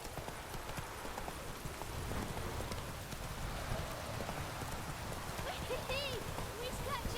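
Horse hooves clip-clopping steadily at a trot in The Witcher 3 video game, with a rainy ambience and faint whinny-like sounds toward the end.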